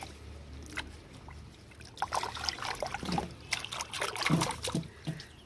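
Water trickles and splashes as small bitter gourds picked from a rooftop garden are rinsed to wash off bugs, with the sloshing growing busier toward the end.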